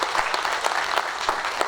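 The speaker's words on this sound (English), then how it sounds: "Another round of applause for the young people." Audience applause for young people at a university research week awards and closing ceremony, steady clapping from a crowd held at an even level for under two seconds.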